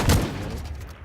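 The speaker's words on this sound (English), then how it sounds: "Shotgun might come in useful here." A single close, loud shotgun blast from the video game Ring of Elysium, a sharp boom followed by a brief decaying tail.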